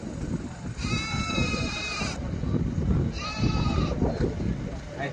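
Saanen goat kids at a livestock market give two long, wavering bleats over a constant crowd murmur and talking people.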